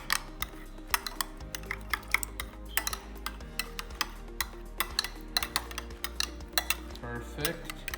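Chicken parmigiana ingredients with parsley flakes are stirred in a bowl, with a busy run of close clinks and scrapes of a utensil against the dish, repeated irregularly throughout.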